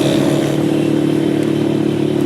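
A KPR 200 motorcycle engine idles loud and close, a steady, even mechanical drone with a faint rhythmic clatter, holding constant without revving.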